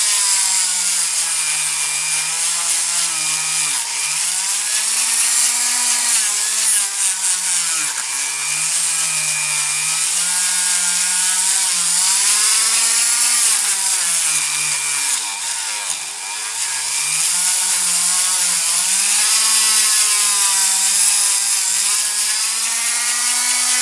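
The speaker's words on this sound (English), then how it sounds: "bit on the old Dremel" A Dremel rotary tool grinds on a Corgi Ford Thames Airborne Caravan die-cast model during restoration, its high steady whine dipping briefly under load and recovering, loud and close throughout.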